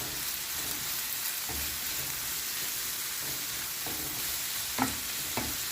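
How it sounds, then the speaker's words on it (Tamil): Sliced onions sauté in a pan with a steady hiss of frying. Occasional stirring taps and scrapes come through at intervals. It is close and moderately loud, with no voices. "இந்த ஆனியனை நாம் இப்போ நல்லா சாட் பண்ணிடலாம்."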